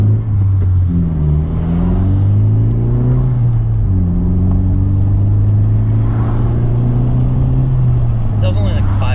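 A turbocharged 2020 Honda Civic Si engine accelerates loudly and close, its pitch climbing in repeated sweeps as it pulls through successive gears, with a continuous rumble underneath.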